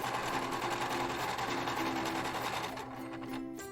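A sewing machine stitches cotton quilt pieces together, its steady rapid needle chatter running close and continuous before easing off near the end, with no talking.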